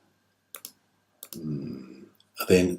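Computer mouse clicks while setting up a website theme and map: a few sharp, close single clicks spaced apart, with a brief hum of talk between them.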